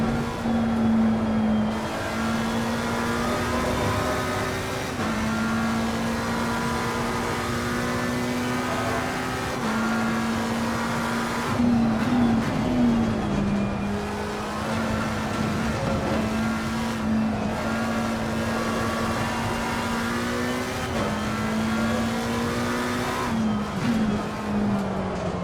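Race car engine in a sim racing video game held under throttle, a loud steady droning whine with shifting pitch and brief tire squeals, continuous throughout.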